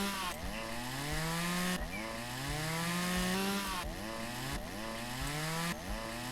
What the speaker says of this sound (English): I hope you like the relaxing sound of chainsaws in the morning